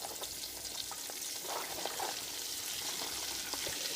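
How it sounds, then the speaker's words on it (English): A whole large head of cabbage, cut into small pieces, sizzles and crackles steadily in a frying pan, a close, even hiss with no talking. "And so it's starting to sizzle now."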